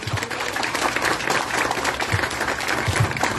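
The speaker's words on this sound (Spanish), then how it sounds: "yo se lo pido para que ustedes le den un fuerte aplauso a nuestra presidenta" A crowd at a road inauguration ceremony claps for the president, a dense and continuous round of applause at moderate volume lasting the whole clip.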